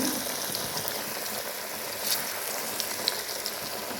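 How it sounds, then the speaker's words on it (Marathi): Ridge gourd bhaji sizzle steadily in hot oil in a kadai over a low flame, a continuous crackling hiss with a few sharper pops. "बारीक गॅसवर आलटून पलटून दोन्हीकडून मस्त असे तळून घ्यायचे भजी"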